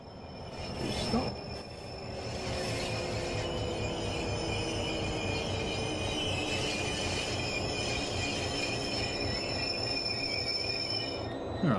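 In the Train Sim World video game, a train brakes with steady rolling rumble and sustained high wheel squeal that holds for about ten seconds.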